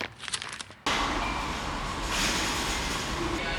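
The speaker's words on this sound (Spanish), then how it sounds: "Estoy en una estación de subte, en la estación Congreso." A train rumbles loudly through a station after a brief moment of quieter ambience, a steady roar with a faint high squeal.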